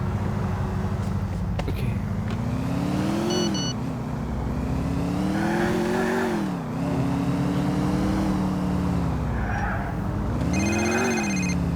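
A car drives in Grand Theft Auto IV, with a loud, continuous engine drone rising and falling as it accelerates and revs. Brief electronic ringing tones appear in between, and the engine dominates throughout.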